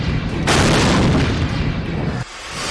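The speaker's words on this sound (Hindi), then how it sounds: "आसमान में ही हुआ ड्रोन में विस्फोट" A drone blows up in the sky over Moscow: one heavy, rumbling blast that roars loud and steady for nearly two seconds, then drops off sharply to a lower rumble.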